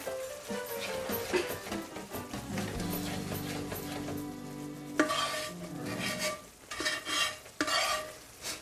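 A roux stirred into a simmering shrimp étouffée in a Cajun pot, with steady scraping and soft sizzling bubbling close by, broken by a few louder clanks and stirs near the end.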